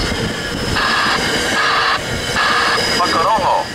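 A train rumbles past the Linden level crossing on Collins Ave, with a steady loud rolling noise under a repeating recorded warning voice and crossing alarm tones.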